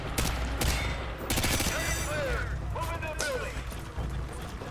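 Loud, rapid bursts of gunfire from a Call of Duty game crackle in quick volleys, mixed with mechanical clatter and other in-game effects.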